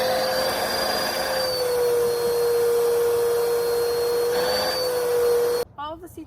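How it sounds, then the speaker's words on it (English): A regular vacuum cleaner working over a car seat, a loud steady motor whine with a constant pitched drone and slight shifts as the nozzle moves, cutting off near the end as a person starts talking. "we have to vacuum the seat just with a regular vacuum"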